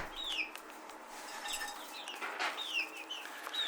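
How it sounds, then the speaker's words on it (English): Chickens cluck and chirp close by in a coop, several short high calls over a soft, busy background rustle of birds moving about, with no talk. "Here's the birdies."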